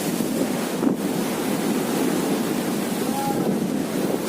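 Strong waves and gusting wind from Typhoon Quinta on the Bicol coast roar in a dense, continuous wash of surf and wind buffeting the microphone, with no pauses.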